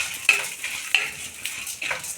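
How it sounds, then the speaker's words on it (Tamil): Chana dal and toor dal, about 100 grams each, roasting in hot oil: a thin, hissing crackle close by, broken by a few sharp clinks and scrapes of a spoon against the pan. "கடலைப்பருப்பு ஒரு 100 கிராம், துவரம்பருப்பு ஒரு 100 கிராம். இதை வந்து நல்லா செவக்க வறுக்கலாம்."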